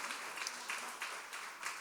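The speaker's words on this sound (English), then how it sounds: "give a round of applause to all the staff for just putting this event on and their hard work" A room of event guests gives a round of applause for the staff, a steady wash of many hands clapping at moderate distance, fairly quiet, with a few brighter swells of clapping through the stretch.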